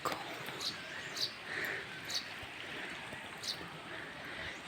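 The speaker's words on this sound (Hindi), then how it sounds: "चिड़िया की खूबसूरत चहचहाट सुनाई दे रही है।" Birds chirp in a quiet village among farm fields and irrigation channels, giving faint, brief, high calls that repeat at intervals over a soft background hiss.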